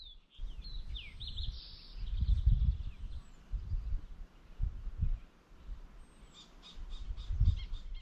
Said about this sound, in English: When there's no car, it sounds so great. So quiet. Just birds.